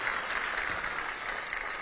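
Applause for Chief Minister Bhupendrabhai Patel at a public event in Gujarat, a steady wash of many hands clapping continuously, fairly distant and moderate in level.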